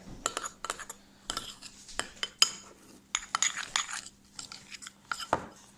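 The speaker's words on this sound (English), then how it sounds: "Then I'm gonna mix this around." A metal utensil scrapes and clinks against a bowl while mixing a keto dish with mayo, giving irregular close-up bursts of clatter and scraping with short pauses between strokes.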